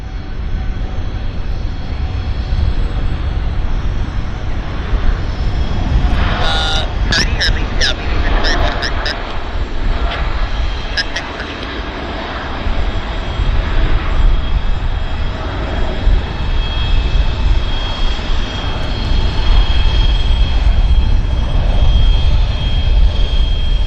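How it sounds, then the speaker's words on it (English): A Falcon 50 business jet taxis at Vancouver Airport, its engine a loud steady roar and whine lasting throughout, with a voice talking over it at times. "We have a fabulous Falcon 50 taxiing in, guys."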